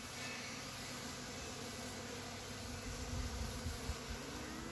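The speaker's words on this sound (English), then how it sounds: "as you can see, the bees are feasting." Honey bees feeding at bucket feeders with small troughs during a summer dearth, making a steady, dense buzz that stays at an even level throughout, with no voices.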